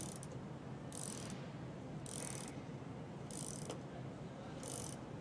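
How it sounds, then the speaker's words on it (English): A conveyor belt running on pulleys during a tracking adjustment, with a low steady mechanical drone and a faint hiss that repeats about once a second in a regular rhythm. "As you can see, the pulley's tracking off to one side, so as I tension up this screw, it's going to bring my belt back the other direction."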